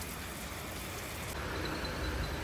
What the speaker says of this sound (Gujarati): સવારનો વરસાદ ચાલુ છે